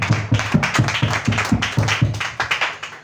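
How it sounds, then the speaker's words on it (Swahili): A church congregation clapping for Jesus at a Sunday service, a steady rhythmic beat of many hands striking together in unison, about three claps per second, loud and close, with no talking. "Ya Yesu makofi mazuri."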